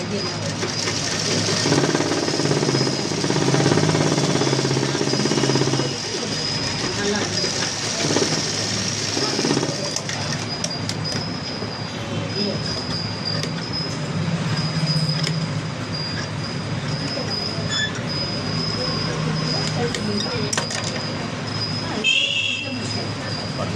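A sewing machine stitching a sleeve runs in a steady, rapid mechanical chatter, loud and close, continuing throughout with slight changes in pace and a brief pause near the end.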